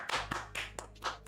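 Hands clap in a quick run of several sharp, close bursts with uneven spacing, loud and alone, with no one talking over them.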